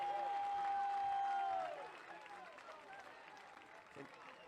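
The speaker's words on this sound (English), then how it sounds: "this crowd, hungry for something big to happen, is applauding" Crowd at an NC State vs Army college baseball regional game applauds a double, a broad wash of clapping and cheering that swells loudly at first, then thins into a lower murmur of scattered claps.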